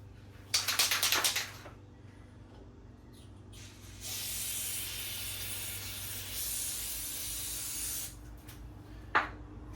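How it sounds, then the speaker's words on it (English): A short burst from an aerosol can of lithium grease, then a longer steady spray hiss lasting several seconds, and a final brief puff, close up with no talking. "we're going to spray a lot, well, moderate amount of lithium grease"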